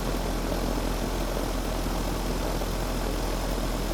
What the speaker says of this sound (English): It's blowing a lot of wind.